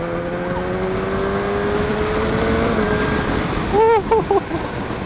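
A 2020 BMW S1000R motorcycle engine accelerating during a test ride, a rising whine under heavy wind rush, with short revving bursts near the end.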